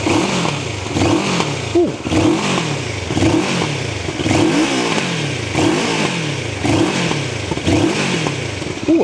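Moto Morini Seiemmezzo 650 Scrambler engine revving hard in repeated rising and falling bursts, about eight throttle blips with crackling backfires, close and loud, with a brief exclamation from a person.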